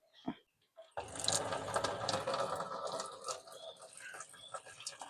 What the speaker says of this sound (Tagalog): So, so guys, medyo malakas yung tubig natin.